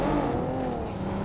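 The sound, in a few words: vehicle approaching and passing, from a video game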